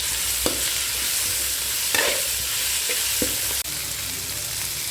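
Broad beans fry in a pan with chilli powder, salt, turmeric, garlic and curry leaves, giving a loud, continuous close sizzle broken by a few soft utensil knocks.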